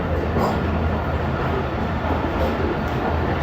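The Tezgam 8 Down passenger train runs after leaving Chaklala railway station, a steady dense roar and rattle heard from close by, with a muffled voice faintly underneath.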